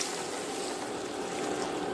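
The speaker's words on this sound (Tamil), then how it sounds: "இதில் நம்ம ஒரு ஒன்றரை டம்ளர் அளவுக்கு தண்ணி ஊற்றிடுவேன்" About one and a half tumblers of water poured into a cooking pot holding chopped snake gourd, a soft, continuous trickling splash, faint and steady for the whole moment.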